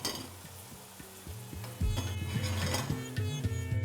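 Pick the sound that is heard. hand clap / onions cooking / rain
onions cooking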